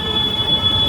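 Train wheels squeal in a loud, steady, piercing metallic tone near Dum Dum metro station, with a rumbling rail undertone through the short burst.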